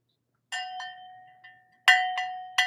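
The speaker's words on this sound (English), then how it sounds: "When you hear this bell, get ready for the question." A bell rung before a trivia question at a Christmas Eve party, several bright metallic strikes in two quick pairs with ringing decay, close and clear with no talk over it.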